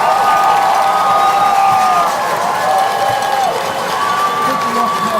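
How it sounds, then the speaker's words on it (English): A large crowd at a high school football game cheers and roars continuously, loud and sustained with shrill whistles and shouts rising over the din, a dense wall of noise with no clear pauses. "Wayne County, listen to this crowd."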